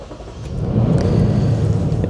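The engine of a Lexus GX460 cranks and catches, building into a low steady idle rumble heard close up with no talking.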